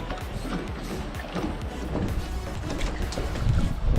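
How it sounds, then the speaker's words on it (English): A Yamaha 100-horsepower four-stroke outboard runs on a boat, a low rumbling drone blended with wind and water noise, steady and building slightly louder toward the end. "Start the motor."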